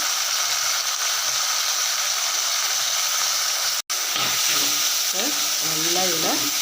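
Garlic and tomato sauté in a pan for Tamil kara kuzhambu, giving a steady, close, bright sizzle throughout, broken by a momentary gap, with a voice speaking over it toward the end.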